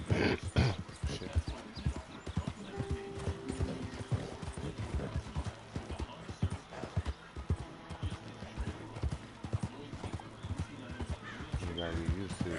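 Horse hooves clip-clop in a steady rhythm while riding in Red Dead Redemption 2, with occasional whinnies, game music and talk over the top.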